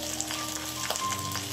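Minced garlic hits pork belly in a hot pan, with a brief burst of steady frying sizzle and light stirring scrapes, with no voices.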